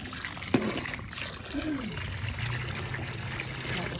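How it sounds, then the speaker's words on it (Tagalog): Water pours steadily into a cooking pot for pancit with veggies, a continuous trickling splash with a brief knock near the start and the pitch of the filling settling lower as it runs. "maglalagay po tayo ng tubig po guys"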